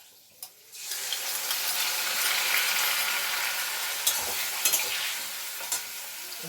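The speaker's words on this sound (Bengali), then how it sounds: "পেঁয়াজটা একটু ভাজা ভাজা হোক" Onion paste hits a pan of fried potatoes with a sudden burst of loud, hissing sizzle that holds steady, dotted with a few clicks of stirring close up.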